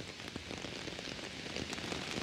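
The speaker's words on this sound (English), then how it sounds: "It's been raining for 2 days straight and it haven't stopped." Heavy, steady rain pours during a hurricane, a dense continuous hiss of drops drumming on surfaces, close and even throughout with no voices.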